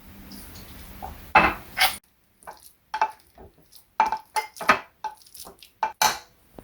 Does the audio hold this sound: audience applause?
no